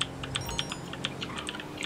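Mechanical computer keyboard typed on in quick, uneven bursts of sharp clicky keystrokes, fairly close, over a low background hum during a GTA V Online session.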